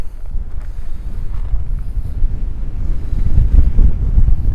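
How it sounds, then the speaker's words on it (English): Strong wind buffets the microphone at King's Lynn Quay by the river in a constant loud low roar, gusting harder toward the end, with no voices. "the wind, I can hardly hold the camera. It's blowing me all over the place."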